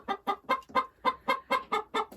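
Hens cluck close by in a steady, rapid rhythm, about nine sharp clucks in quick succession with no talking.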